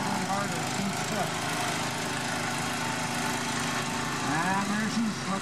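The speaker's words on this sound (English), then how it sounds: "Slowly edging forward, putting more gravity push on that sled, making it more and more difficult, making the tractor work harder and harder each trip." Antique tractor engine chugging steadily while pulling a weighted sled at a fair tractor pull, a continuous mid-distance drone with a fast even beat, under faint talk from onlookers.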